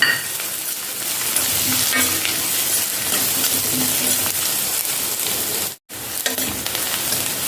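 Chicken frying in oil over a high flame, a steady loud hiss and crackle of sizzling that runs throughout with a brief break near the end.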